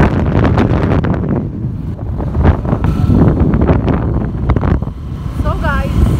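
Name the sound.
wind noise while riding a motorbike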